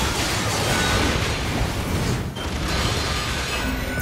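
A sustained explosion roar in the video game NieR:Automata, a dense, loud wall of rumbling noise with a brief dip partway through before it surges again.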